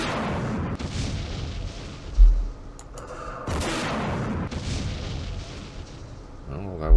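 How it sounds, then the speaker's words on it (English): Mortar and recoilless rifle fire in the Vietnam war game Campaign Series Vietnam, Battle of Hue: a steady rumble of distant artillery with a sharp boom near the middle and another at the end. "Use the recoilless rifles and the mortars"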